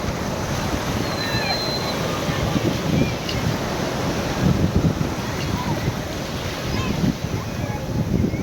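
Sea waves rush onto a busy tourist beach at Antarvedi, a loud continuous roar of surf and wind close to the microphone, swelling slightly in places without clear breaks.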